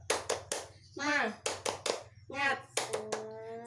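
Schoolchildren and a teacher in an Indonesian elementary classroom do the rhythmic tepuk semangat clap routine, bursts of clapping alternating with chanted voices in a patterned rhythm, with talk and a sung tone at the end.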